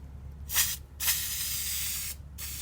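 Two short hissing bursts of spray coating onto an intake plenum, then a longer sustained spray hiss that cuts off, briefly resumes, all close and alone.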